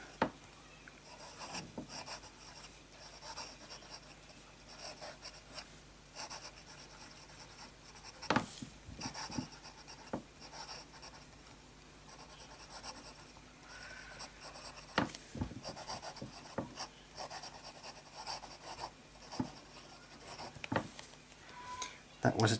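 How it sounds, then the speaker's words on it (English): A fine-nib fountain pen with J. Herbin Rose Tendresse ink scratches steadily across paper up close, soft continuous scribbling with occasional taps and pauses, and quiet talk in places. "Start with a bit of fine writing"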